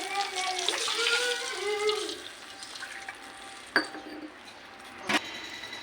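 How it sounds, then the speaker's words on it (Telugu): Eight glasses of water pour and splash steadily into a pan of semolina for a couple of seconds, then settle, followed by a couple of sharp metallic clinks. "ఇప్పుడు ఎయిట్ గ్లాస్ వాటర్ వేసుకున్నామండి"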